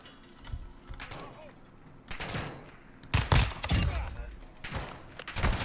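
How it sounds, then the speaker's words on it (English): Gunfire in the video game Call of Duty DMZ, with several bursts of rapid shots crackling in short clusters, some louder and closer than others, under faint background ambience. "someone shooting me from behind."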